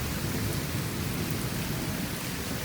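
Heavy rain pouring down on a village during a thunderstorm, a dense, loud, steady roar of rainfall with low rumbling underneath, filling the whole stretch without pause.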